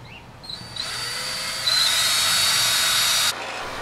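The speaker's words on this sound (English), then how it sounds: "I got my safety glasses on when I use the hand drill." A hand drill spinning up with a high whine, running steadily for a few seconds, rising in pitch and loudness midway, then cutting off abruptly.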